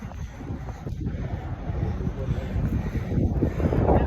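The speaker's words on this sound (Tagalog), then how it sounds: "lakas ng hangin malamig" Strong, cold wind buffeting the microphone on a jog in a steady low roar that swells louder toward the end, with no voices heard.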